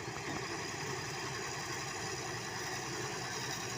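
A tractor engine runs steadily at close range, a constant rumbling drone with no change in pace and no talk over it.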